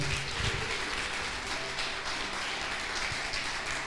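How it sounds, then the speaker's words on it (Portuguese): A church congregation applauding after a sermon, steady dense clapping that fills the space at moderate volume throughout, with no clear voices over it. "Vamos aplaudir ao Senhor."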